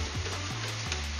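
Seafood pie filling sizzling and frying steadily in a pan, a close, continuous crackle with soft stirring scrapes, no voices.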